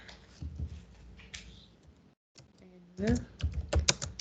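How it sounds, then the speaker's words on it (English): Keys clacking on a computer keyboard during a computer-class lesson, a few soft taps and then a quicker burst of close typing near the end, mixed with a speaking voice. "Let me type"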